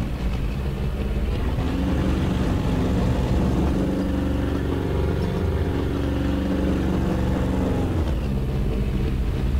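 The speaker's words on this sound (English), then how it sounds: "every time I hear a plane, I'm saying plane" A loud, steady engine drone of an aircraft passing in the video game War Thunder, rumbling continuously with a slight shift in pitch near the end.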